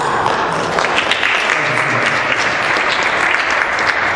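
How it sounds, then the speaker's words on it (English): Steady, dense applause from the audience at a city council meeting in Elizabeth, New Jersey, loud and continuous throughout without pause. "So we applaud you"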